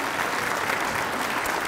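An audience at a community chorus concert applauds in a dense, continuous wash of clapping that stays steady and loud throughout.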